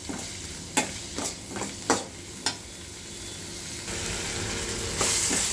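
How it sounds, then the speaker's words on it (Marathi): Ingredients for chirmura sushila roasting in oil, a faint steady sizzle broken by several sharp spoon taps and scrapes early on, then a louder continuous hiss toward the end, close and without talk. "आता याला मी 2 मिनिटं तेलामध्ये भाजून घेणार आहे।"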